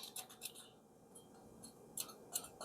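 Quiet, crisp crackling and scraping as a knife cuts through crunchy, still-hot smoked turkey skin, a few sharp ticks standing out against a faint background hush.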